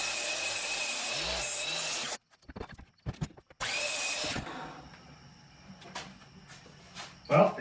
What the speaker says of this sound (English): So what I think we can do here is move it over to the miter saw.